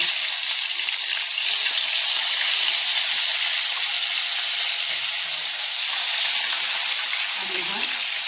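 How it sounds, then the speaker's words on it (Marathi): Brinjal (eggplant) pieces fry in the same oil just used for bombil fish, giving a steady, close hissing sizzle with no pause. A few faint low bumps come through beneath it. "आता त्याच तेलामध्ये आपण हे वांगे फ्राय करून घ्यायचे."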